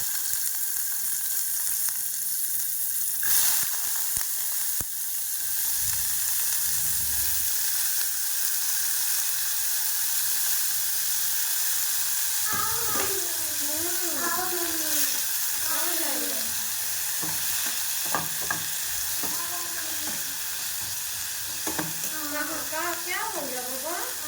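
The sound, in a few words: whole spices frying in hot oil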